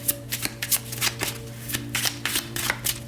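Tarot cards being shuffled by hand, a steady run of crisp riffling and flicking bursts, close and fairly loud, with a faint steady hum beneath and no talking.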